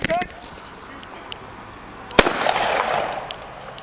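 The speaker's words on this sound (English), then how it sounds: "After the shooting" A single sharp gunshot rings out midway through a police officer-involved shooting at a residence, followed by a burst of noisy commotion and scuffling; shouting voices are audible around it.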